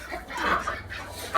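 Chickens and roosters clucking on a farm, alongside ducks, in muddy conditions after rain; a steady stretch of close, overlapping fowl calls with a brief louder squawk near the end.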